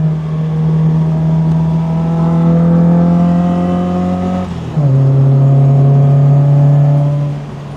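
A classic MGB fitted with a Type 9 Ford five-speed gearbox races around Castle Combe circuit, its engine droning loud and steady under throttle, with a brief dip at a gear change before it pulls hard again.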